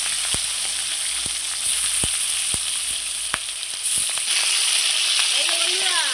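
Pieces of katla fish sizzle steadily in hot oil, a loud, dense crackle with sharp pops spaced through it, continuous from start to finish.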